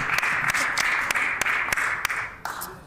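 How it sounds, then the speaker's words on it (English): Applause fills a legislative chamber as a steady, fairly loud patter of many hands with a few sharper claps, fading slightly toward the end. "I should allow for all of the applause to conclude"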